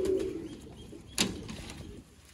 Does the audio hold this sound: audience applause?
no